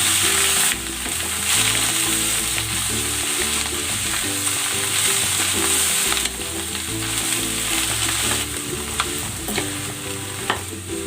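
Shredded cabbage hitting a hot pan of stir-fried beef and vegetables, a loud continuous sizzle with stirring and scraping sounds over a low steady hum.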